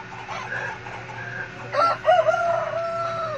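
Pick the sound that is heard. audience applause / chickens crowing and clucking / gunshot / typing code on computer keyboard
chickens crowing and clucking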